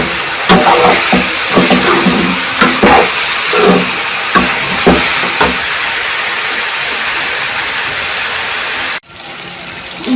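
Ridge gourd (tori) sabzi fries in a pan with a loud, steady sizzle and hiss, broken by periodic scraping stirs, then the sizzle suddenly drops away near the end.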